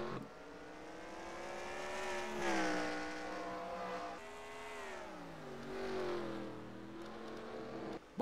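Race cars charge through the first turns at the Detroit Belle Isle street circuit, a loud engine note rising and falling as they brake and accelerate through the corners, with layered engines nearby.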